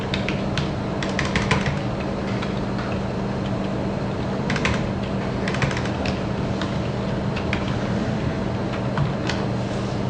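Computer keyboard typing comes in scattered bursts of quick clicks, close and moderately soft, over a steady low electrical hum, with no talking.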